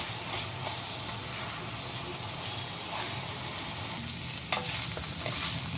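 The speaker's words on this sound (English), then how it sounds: "parboiled basmati or long grained rice and give this a good mix." Parboiled basmati rice is mixed in a hot pan under a continuous soft frying hiss, with occasional light scrapes and clinks of a spoon against the pan, close and even, no talking.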